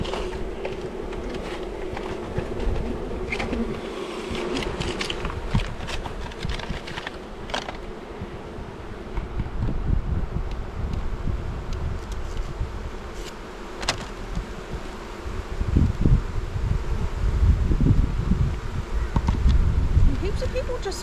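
Honey bees buzz continuously around an open hive during a beekeeping inspection, a close, fluctuating drone with scattered clicks and handling noises, while a person talks over it.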